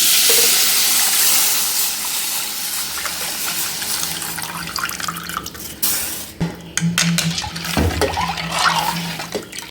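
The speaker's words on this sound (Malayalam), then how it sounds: "ഇനി നമുക്കിതിലേക്ക് മോരൊഴിക്കാം" Buttermilk pours into a pan of fried fenugreek, giving a loud rushing, splashing pour that thins into bubbling and sizzling bursts toward the end, with no talking.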